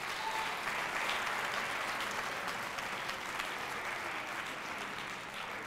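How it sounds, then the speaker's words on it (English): Sustained audience applause for presenters fills the room, loud and steady throughout with no pauses, gradually tapering slightly toward the end. "could you please give our presenters another round of applause?"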